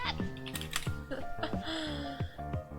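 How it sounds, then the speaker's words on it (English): Typing on a computer keyboard during an art stream, a quick run of close clacking keystrokes over a steady tonal hum, with no talk. "Ominous typing noise continues"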